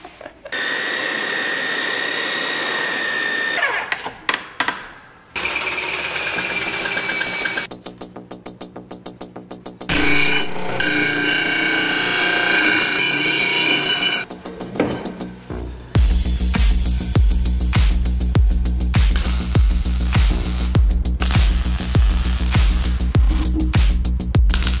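An angle grinder fitted with a cutting wheel cuts metal bars on a Jeep WJ. The loud, close, high whine runs in long bursts, stops, spins down and restarts, with harsh rasping and rhythmic chattering toward the end.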